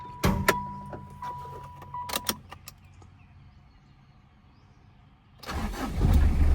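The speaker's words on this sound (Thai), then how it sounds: "เสียงเครื่อง" A Mitsubishi Strada 2800 GLX diesel cab pickup cranks with several sharp clicks and a brief whir, a quiet pause follows, then the engine catches and settles into a loud, close, steady rumble.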